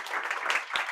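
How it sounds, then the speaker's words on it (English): Brief burst of audience applause at a tech talk on writing clean code, dense overlapping claps from a nearby crowd filling the whole second at steady volume. "applause for Giulio."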